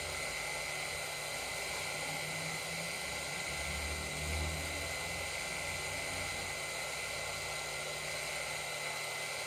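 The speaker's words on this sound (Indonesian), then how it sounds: "ini dirapihkan bekas motongnya dengan amplas gerinda" A grinder fitted with a sanding disc gives a steady, high-pitched grinding whir without a break while smoothing a shoe sole.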